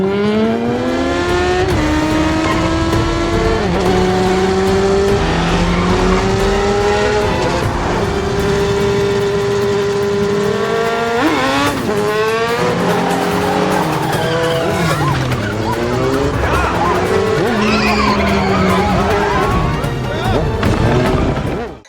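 A motorcycle races away during a film chase scene, its engine screaming and rising in pitch, loud and continuous amid tire squeals, traffic noise and dramatic soundtrack.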